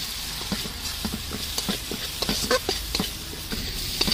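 Ground spices, turmeric and coriander among them, fry in oil for a vegetarian greens dish, making a steady close sizzle with rhythmic spoon scrapes and taps as the masala is stirred, with no talking.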